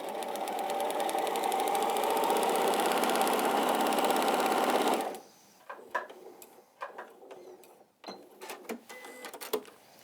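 A sewing machine stitches fabric in a continuous, close, buzzing run for about five seconds, then stops, followed by quieter handling noises and small clatters.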